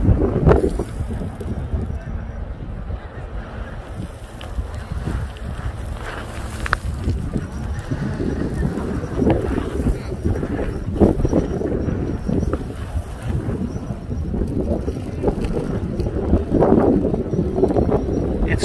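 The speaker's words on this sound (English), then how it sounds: "See, it's a windstorm." Windstorm gusting over a lava field, with loud continuous rushing and buffeting against the microphone, steady throughout with occasional footsteps and brief speech.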